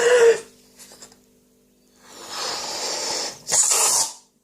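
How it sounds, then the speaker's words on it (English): A person blows air into a balloon while making a juggling ball: a short puff, then a long steady breathy blow and a second strong burst, close and loud with quiet gaps between. "So we're going to blow our balloon."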